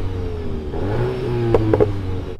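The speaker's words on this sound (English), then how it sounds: "Let's hear the Clubsport, see if that's better, because it's the Clubsport" A VW Golf GTI Clubsport revs in a drag race, its engine note steady and moderately loud before climbing in pitch, with a couple of sharp clattering bursts near the end.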